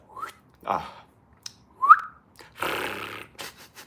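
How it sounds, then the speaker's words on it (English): A brief, high whistled note rises sharply near the middle, with a few quiet clicks and a burst of hiss nearby. "Oh, I did a little whistle there."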